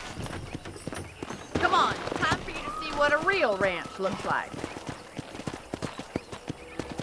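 Horse hooves clip-clopping on a ranch in the Red Dead Redemption video game, a steady close walking rhythm with a whinny partway through while people talk over it.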